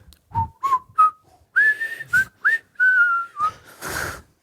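Someone whistles a melody in short, clear phrases with brief pauses, close and fairly loud, with no talking.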